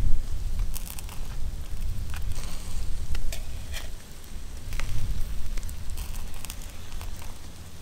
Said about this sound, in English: Give that a few minutes, flip it, coat the opposite side, and then thoroughly cook that bacon to your liking.